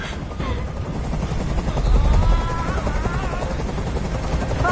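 A helicopter hovers in Detroit: Become Human, its rotor throbbing as a loud, steady drone with a deep rumble that swells briefly midway and holds close and unbroken throughout.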